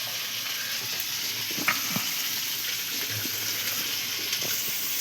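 Fish fries in a pan, a soft steady sizzle with a few faint clinks and stirring knocks, fairly quiet and continuous.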